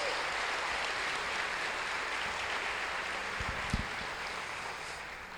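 A church congregation applauds together in a steady, even wash of clapping that holds at a moderate distance for the whole stretch.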